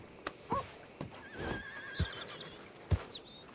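A horse whinnies in Red Dead Redemption 2, with several high, wavering calls spread across the moment. Soft hoof clops and snorts sit around them on a quiet ranch.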